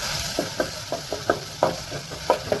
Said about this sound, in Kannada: ಇವಾಗ ಮೆಣಸಿನ್ಕಾಯಿ, ದಪ್ಪ ಮೆಣಸಿನ್ಕಾಯಿ, ಕ್ಯಾಪ್ಸಿಕಮ್ ಹಾಕೊಳ್ಳೋಣ. ಇದನ್ನ ನೀಟಾಗಿ ಸ್ವಲ್ಪ ಫ್ರೈ ಮಾಡ್ಕೊಳ್ಳೋಣ.